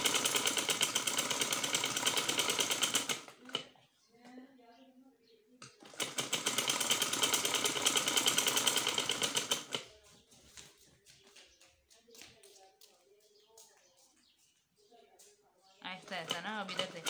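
Sewing machine stitching the sleeve seam of a kurti, running in two loud steady bursts of rapid whirring stitches separated by pauses, with softer handling sounds and a voice speaking between and after the runs.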